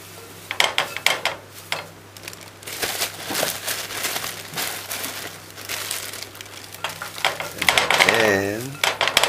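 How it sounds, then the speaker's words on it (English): A knife dices washed, stripped callaloo leaves on a cutting board, giving quick, close, repeated chopping taps in an uneven rhythm, with a brief whooshing sweep near the end. "You dice it."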